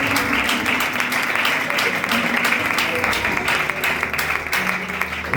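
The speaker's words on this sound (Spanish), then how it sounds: "Después da un aplauso fuerte al Señor" Church congregation clapping loudly at a worship service, a dense, steady wash of applause holding through the whole stretch with faint voices mixed in.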